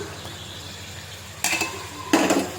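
A spoon scrapes and clinks through masala-coated prawns in a pan, quiet at first with a faint background hum, then two louder bursts of stirring and scraping near the end.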